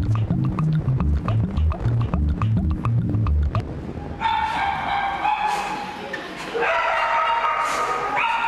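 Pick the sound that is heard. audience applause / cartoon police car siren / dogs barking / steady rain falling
dogs barking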